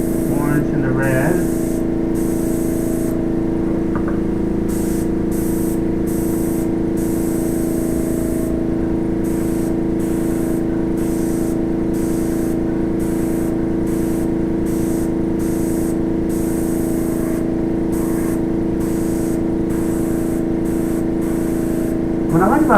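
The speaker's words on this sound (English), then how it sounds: "What I like about the airbrush is you can do some really cool stuff with it." Airbrush spraying yellow paint over orange and red artwork on a custom-built guitar: a continuous, even hiss held close by throughout, with a voice talking over it.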